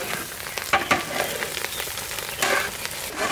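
Rice frying in mustard oil for a large batch of khichdi, with spices going into the pan; a steady crackling sizzle runs throughout with a few louder sputters and stirring scrapes, close and alone without speech.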